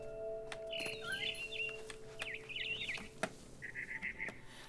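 Bird chirping in the video game What Remains of Edith Finch: several short bursts of warbling, trilling calls at moderate distance, separated by brief gaps over a low steady ambient background.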